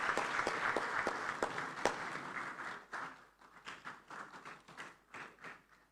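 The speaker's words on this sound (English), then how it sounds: "Please, a round of applause for her as she takes the podium." Conference audience claps steadily as a parliamentary deputy speaker walks to the podium, dense applause fading into thinner scattered claps toward the end.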